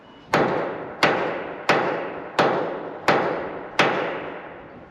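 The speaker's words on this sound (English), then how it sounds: "I've moved the whole lot inwards with the wee hammer" A small hammer knocks a dimple inwards on a steel boat hull panel, six sharp ringing metallic strikes spaced evenly about every 0.7 seconds, each with a short fading ring, close and fairly loud.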